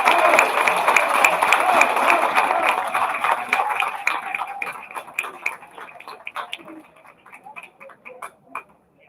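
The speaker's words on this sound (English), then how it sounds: "big round of applause for Mary Sweeney and her crew" Audience applause at a community annual meeting: a dense round of clapping that thins out into scattered individual claps before fading.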